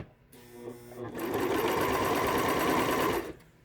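A Brother 2340 coverstitch machine starts up and stitches at a steady, rapid whir for a few seconds, loud and close, with a person speaking briefly just before it runs.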